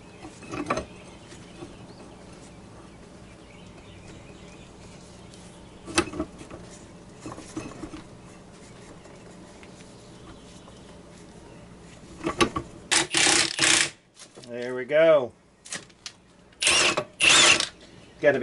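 A press forces out a rusty U-joint cap on a Jeep Wrangler TJ yoke: quiet ratcheting and metal clicks at first, then loud clanks and a rising creak in the second half.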